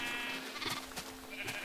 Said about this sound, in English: so there's just a giant amount of sheep in there